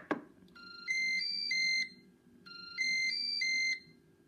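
A Cookeo multicooker chimes as it is switched on: two matching bright electronic melody phrases of rising beeps over a soft background hum, close and clear.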